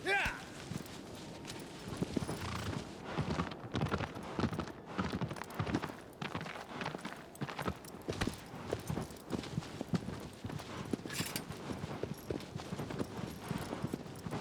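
Horse hooves gallop in a quick, continuous clip-clop rhythm in the video game Shadow of the Colossus, while a person talks over them throughout.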